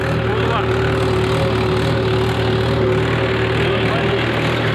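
A tractor engine runs steadily at close range while sowing seeds in a field, a continuous droning rumble with a constant hum throughout, and people talking over it.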